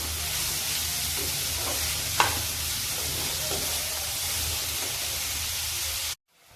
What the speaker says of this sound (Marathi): हा कांदा आपण चांगला परतून घेऊ।